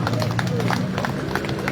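Crowd applause and cheering at an outdoor solidarity rally in Kuningan to protect the Gunung Ciremai forest, a dense, steady clatter of many hands mixed with voices and shouting across the whole moment.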